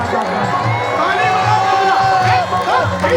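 A large crowd cheers and shouts at a devotional gathering, loud and sustained with overlapping voices and whoops, a leader's voice calling out over them.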